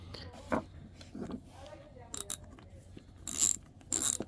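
A Proto Challenger 1260 hand ratchet, previously seized, turned in short bursts of quiet mechanical clicking and crunching, with brief sharp rasps near the end; faint and close up.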